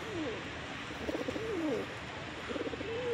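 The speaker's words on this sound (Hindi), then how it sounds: "red saddle American fantail ring bird ही है" Red saddle American fantail pigeons coo nearby in soft, repeated rolling calls, several overlapping phrases in a quiet setting.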